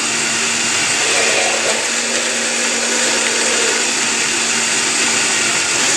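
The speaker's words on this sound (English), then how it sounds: "We turn it on sort of slow to get it going. And once we get it going a little bit, we just turn up the blender." A blender runs loud and steady as it purées a papaya salad dressing with red onion and greens, a constant high whirring roar with no talking.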